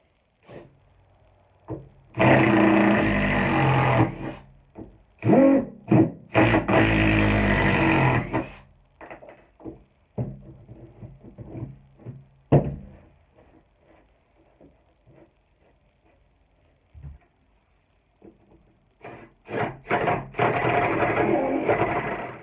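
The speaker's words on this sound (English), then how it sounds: "let's work on getting these screws out that have been down for probably 2 or 3 years" Makita and Milwaukee cordless drills back out old screws that have sat for years, with several loud whirring bursts of motor and bit grinding separated by pauses and quieter handling clicks.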